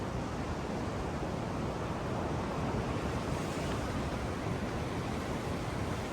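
Westerly wind blows steadily through trees beside a tidal creek, a constant broadband roar with no gusting breaks, loud and close to the microphone.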